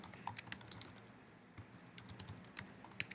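Rapid keystrokes on a Raspberry Pi computer keyboard, close and crisp, in irregular bursts of clicks with brief pauses between them.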